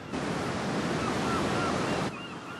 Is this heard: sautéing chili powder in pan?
no